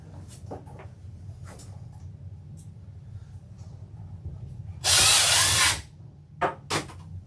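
A power drill drives screws into a wall in one loud, close burst of about a second, followed by a few short knocks and clatters over a quiet, low background hum.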